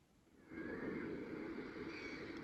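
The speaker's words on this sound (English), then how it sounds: "Yeah, I think this is the sound of ocean." A soft ocean-wave sound from a wake-up light alarm, a broad hiss and rumble that swells in after a quiet start and then holds steady and gentle.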